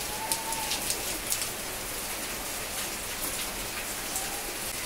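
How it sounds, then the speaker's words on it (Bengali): Heavy rain pours down steadily at home, a dense continuous hiss with scattered louder drops striking nearby surfaces, and no voices. "খুব জোরে বৃষ্টি পড়ছে"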